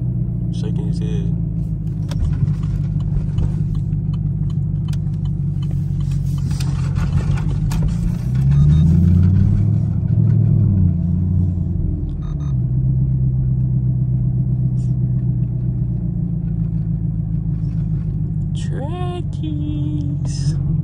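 Loud Jeep Trackhawks and a Camaro cruising in traffic, a deep continuous engine rumble that swells around the middle, with people talking over it throughout.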